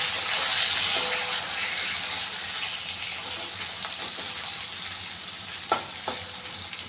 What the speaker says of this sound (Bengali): দিচ্ছি সামান্য হলুদ আর সামান্য নুন দিয়ে আমি হালকা করে আলুটাকে ভাজবো